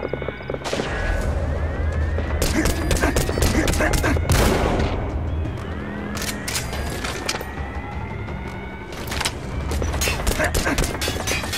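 Rapid gunfire erupts in Metal Gear Solid V, bursts of sharp cracking shots and machine-gun volleys with whistling ricochets, loud and repeated across the stretch with brief lulls between volleys.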